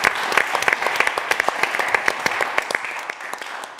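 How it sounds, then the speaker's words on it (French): A small audience applauds for John, a short burst of brisk, uneven hand claps close by that thins out toward the end. "Oui, on peut applaudir pour John."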